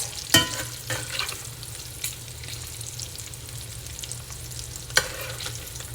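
Kielbasa sausage and bacon frying in grease in a pan, a soft continuous sizzle with a few sharp pops and utensil scrapes, fairly near and alone.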